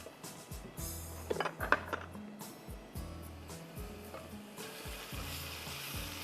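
Onions sizzle in hot oil in a pan with ginger garlic paste for pulao, a steady fry broken by repeated stirring clatters of a spoon against the pot, close and clear without talk.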